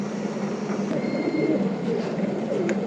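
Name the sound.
female pigeon cooing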